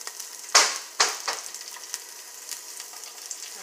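Onion hitting hot oil in a pan, a few sharp close sizzling bursts that fade into a soft, thin crackle, with no talking.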